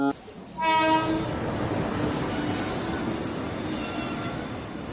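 A train rolls past close by, a loud horn blaring at first, then the steady rumble and clatter of wheels on rails.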